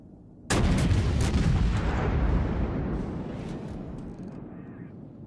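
A naval gun salvo booms in World of Warships, one sudden loud blast followed by a long rolling rumble that slowly fades over several seconds.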